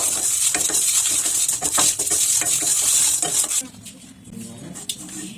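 Fenugreek seeds fry in hot oil for a raw mango pickle, sizzling loudly while a utensil scrapes and stirs them in the pan in steady rhythmic strokes, then the sizzle fades quieter.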